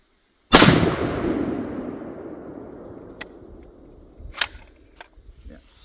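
A single loud rifle shot from a 1978 .460 Weatherby Magnum, a sharp close blast with a long decaying rumble and echo, followed by small clicks and handling noises.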